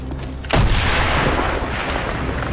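A loud explosion blows a hole in a wall in Call of Duty: Black Ops, a sudden heavy boom after a quieter lead-in, followed by a long rumbling, crackling decay.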